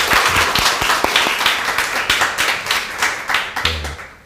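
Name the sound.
church congregation applause welcoming guests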